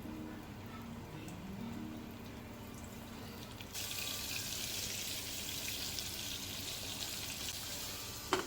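Broasted chicken pieces dropped into hot oil for deep frying in a home kitchen, giving a steady, broad hiss that swells louder partway through and continues without talk.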